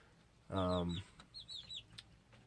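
Hampshire chickens give a loud, close burst of clucking, followed by a few fainter chirpy calls and quieter clucks.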